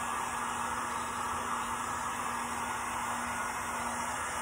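Heat gun blowing hot air onto wooden shims to dry them, a steady, even hiss and whoosh with a faint motor hum, constant and close with no talking.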